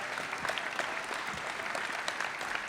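Audience applause for pickle and spirit winners at a food awards ceremony, a steady dense wash of clapping that stays loud and even throughout with no voices over it.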